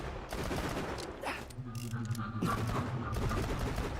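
Rapid bursts of gunfire from shooting at an explosive enemy in the Borderlands video game, a dense, continuous volley that sits close and loud through the whole stretch, with a few brief mechanical clanks mixed in.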